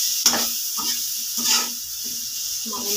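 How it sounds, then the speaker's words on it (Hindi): Masala frying in a pan for poha over lowered gas, with soft sizzling and intermittent scraping stirs at close range. "इसको हम थोड़ा भून लेंगे, जिससे हमारा मसाला भून जाए।"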